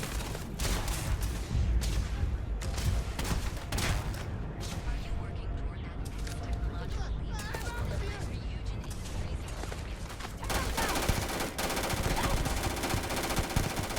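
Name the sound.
gunfire from a gun in the video game Starfield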